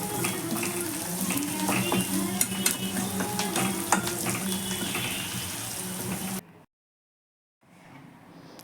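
Ginger-garlic paste and turmeric frying in a pan as they are stirred for a chicken liver fry, steady close sizzle with spoon scraping, then an abrupt cut to silence and faint noise, no talk.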